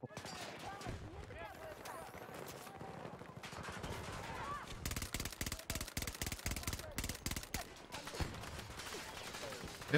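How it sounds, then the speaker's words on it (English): Intermittent gunfire in the shooter Battlefield 2042, bursts of rapid shots near and far in a busy battle soundscape, with faint voices talking now and then. "Oh, I'm being shot at."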